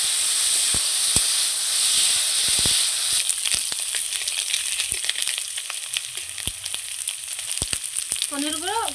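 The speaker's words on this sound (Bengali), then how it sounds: "পনিরগুলো উল্টো পাল্টে করে লাল লাল করে ভেজে নিচ্ছি" Paneer pieces frying in hot mustard oil with a pinch of turmeric in a pan, giving a loud, steady sizzle and hiss with scattered crackles and occasional stirring clinks, no voices.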